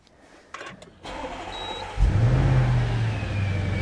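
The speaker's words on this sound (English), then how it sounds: "You hear that amazing V8, that twin turbo V8 come to life." A 2017 Audi RS6 Performance's twin-turbo V8 cranks and fires up, settling into a deep, throaty rumble that grows louder and holds steady after starting.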